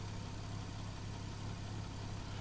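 A 2013 Porsche 911 Carrera S engine idles with a constant low hum and rumble, close and even throughout, no voices.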